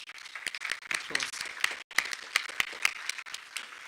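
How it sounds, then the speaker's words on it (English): Warm applause from an audience greeting a guest at a film expo, a steady patter of many hands clapping with a few sharper claps standing out, and voices murmuring underneath. "let's give her a warm applause"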